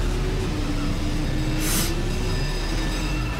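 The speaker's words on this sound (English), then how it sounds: "Bloody trams." Trams rolling through the streets of San Francisco in the racing game San Francisco Rush 2049, a steady rail rumble with a faint wheel squeal and a brief hiss midway.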